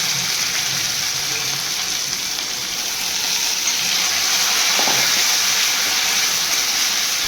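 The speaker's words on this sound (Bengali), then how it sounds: "জল দিয়ে দিয়ে ভাজবো।" Onion paste frying in a pan over lowered gas with splashes of water, a steady loud hiss and sizzle running throughout with a brief bubbling burst partway through.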